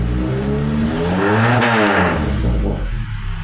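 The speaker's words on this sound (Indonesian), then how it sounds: "Coba kita injak gas ya Bolo ya." A 1987 Mazda Elite engine revs hard and loud, pitch climbing steadily to a peak mid-clip and holding a strong, raspy roar to the end, with no voices.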